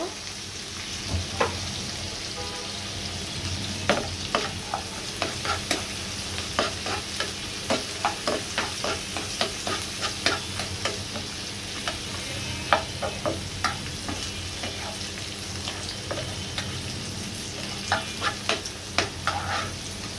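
Onion and spice paste fry in a pan for a koi fish bhuna, with a continuous low sizzle broken by frequent sharp clicks of stirring against the pan, close and moderately loud with no talking.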